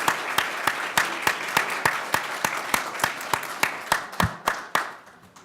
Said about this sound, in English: Let's give a round of applause for Karima and her prop